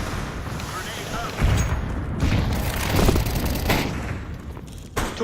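A grenade blast in Counter-Strike Premier, a heavy booming explosion with rumbling gunfire around it, followed by further bursts, with a voice talking over the game noise.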